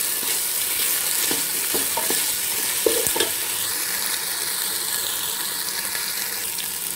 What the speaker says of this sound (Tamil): இப்போ கொஞ்சம் புதினாவும் கொத்தமல்லியும் போட்டு நல்லா வதக்கிக்கலாம்.